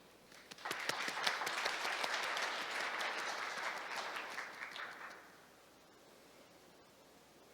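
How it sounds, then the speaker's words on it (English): Conference audience clapping to welcome a speaker, a full round of applause that swells quickly, holds for about five seconds, then fades into a quiet room. "Distinguished guests, please join me in welcoming him with a big round of applause."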